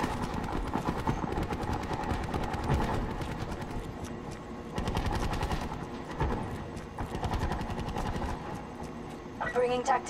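A burst-fire weapon in Black Ops 4 fires rapid clustered volleys again and again, heard under steady game sound and occasional talk, with shots crackling at moderate loudness throughout.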